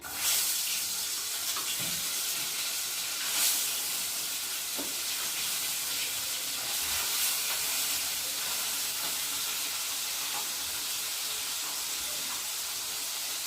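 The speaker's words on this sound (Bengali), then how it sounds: "তো চলো এখন মাছগুলো তেলের মধ্যে দিয়ে দিই।" Bhola fish pieces frying in hot oil, a steady broad sizzle and hiss throughout with a few brief pops and spits, close and continuous with no talk.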